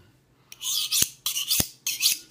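A kitchen knife is drawn along a sharpening steel in three quick, rasping strokes, each a bright scraping swipe ending in a sharp metallic tick, evenly spaced, close and fairly loud.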